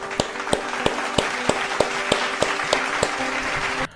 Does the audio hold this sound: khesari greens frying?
no